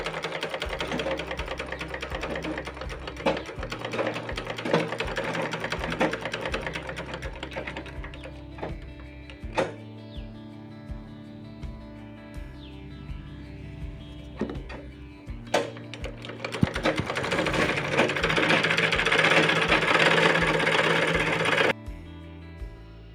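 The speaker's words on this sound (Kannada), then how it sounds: "ಮಿಷಿನ್ ಸ್ವಲ್ಪ ಸೌಂಡ್ ಬರ್ತಿತ್ತು ಅಂತ ಹೇಳ್ಬಿಟ್ಟು ಸ್ವಲ್ಪ ಆಯಿಲ್ ಮಾಡಿದೆ" A freshly oiled sewing machine runs in bursts of fast, even stitching clatter, stopping and restarting several times before a longer, louder run near the end, close by with no talk.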